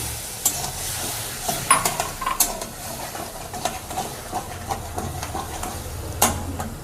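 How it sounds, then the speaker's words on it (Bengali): Sizzling frying pan as sugar and water go in while cooking paneer curry, with steady hiss, stirring scrapes and a few sharp spatters, fairly close and without talk. "দু চামচ চিনি দেব। দিয়ে জল দেব একটু।"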